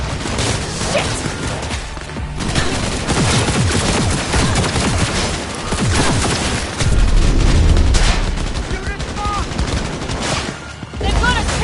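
Dense, loud bursts of automatic gunfire and explosions fill a firefight in the video game Cyberpunk 2077, with continuous rattling volleys and crashes and shouted voices mixed in.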